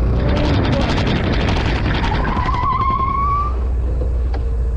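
A Suzuki Burgman Street scooter's rear tire skids under hard braking, giving a loud rough scrape followed by a rising squeal that fades out. The sound is close, and wind and road noise run beneath it.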